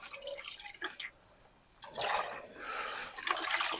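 Oil sloshes in a rocked oil pan from a 1926 Oakland engine, soft liquid splashes and swishes in uneven surges with a short quiet gap between them.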